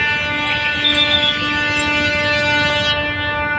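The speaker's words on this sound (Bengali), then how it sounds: "ট্রেনের জামে আটকে গেছি" A train sounds a long, steady, loud horn close by while traffic is stuck in a train jam on the road to Mawa. The tone holds for about three seconds, then cuts off abruptly.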